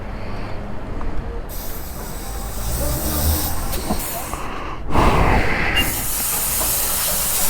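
Air hissing loudly and continuously during a motorcycle tyre pressure check, with the broadband rush stopping and starting in bursts and swelling sharply near the middle.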